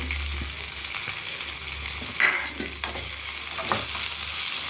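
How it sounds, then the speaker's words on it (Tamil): Crushed small shallots fry in hot oil for a chutney, with a steady broad sizzle throughout and a few scraping stir sounds near the middle and end, no voices. "எண்ணெய் காயும்போது நம்ம நசுக்கி வச்சுருக்க இந்த சின்ன வெங்காயத்தை"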